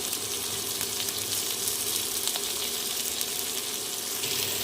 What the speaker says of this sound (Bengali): পটলগুলো প্রায় ভাজা ভাজা হয়ে গেছে এবারে দিয়ে দেবো হলুদ গুঁড়ো